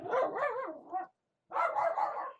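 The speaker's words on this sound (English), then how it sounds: "And there goes my dog again." A dog barks in two loud, close bursts of rapid, rough barking with a short silent gap between them; no one speaks.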